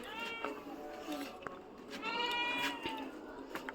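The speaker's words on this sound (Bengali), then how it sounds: "ওই যে বিড়ালটা ধরে" A cat meows several times in quick, faint calls, close but quiet, with some light background noise.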